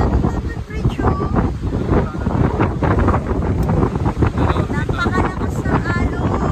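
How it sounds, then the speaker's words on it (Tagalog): Heavy gusts of strong wind buffet the microphone at London Bridge on the Great Ocean Road, with surf pounding below, loud and continuous and broken by brief voices. "Napakalakas ng alon. Malakas pa rin ang hangin."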